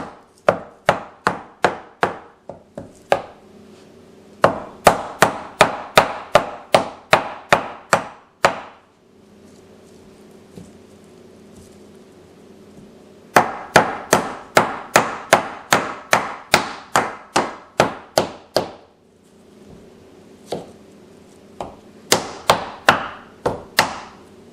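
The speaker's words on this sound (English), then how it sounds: "tap one half of the coconut shell with a hammer several times to crack the shell open" A hammer taps repeatedly on half a coconut shell to crack it, sharp hard knocks in quick bursts of about a dozen strikes, separated by short quiet pauses.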